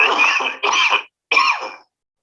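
A patient's coughs: three harsh bursts in close sequence, the first two nearly run together, then a short pause before the last, loud and near, no talk.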